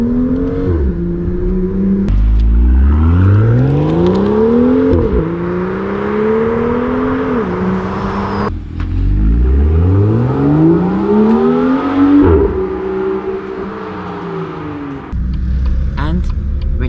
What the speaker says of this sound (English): you shift up at exactly 5500 RPM and you get a cool pop sound out of the exhaust